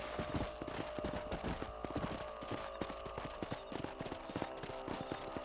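Horse hooves gallop in steady clip-clop rhythm across open ground in the Red Dead Redemption video game, a dense repeating patter that stays close and moderately loud, with no talk over it.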